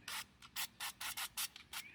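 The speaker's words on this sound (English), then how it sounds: "Then I'm gonna spray a little bit more oil in it." Cooking oil sprayed from a pump bottle into an air fryer basket of garlic shrimp, heard as about eight short, close hissing bursts in an uneven rhythm with brief pauses between them.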